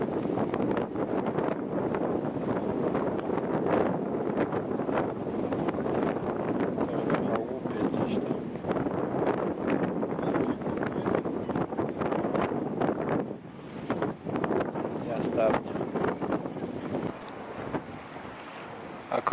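Strong wind by the Baltic Sea near Gdańsk roars and buffets the microphone continuously, a dense close rush with brief gusty dips.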